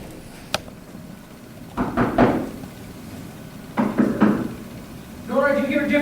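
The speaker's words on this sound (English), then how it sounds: "Tap on the wall. See if maybe there's a hollow sound of maybe a sliding door." Knuckles knock on a house wall to check for a hollow spot, in two short bursts of several raps each, close and fairly loud, with a voice starting at the end.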